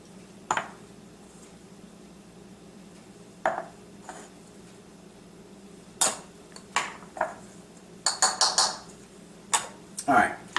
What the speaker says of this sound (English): we're just going to add in here our pumpkin. And our spices.